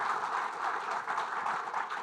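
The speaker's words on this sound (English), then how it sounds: "Can we have a big round of applause for our panelists" A conference audience at a manufacturing summit applauds the CEO panelists, giving a dense, steady wash of clapping from a large room that holds at even loudness with no talk.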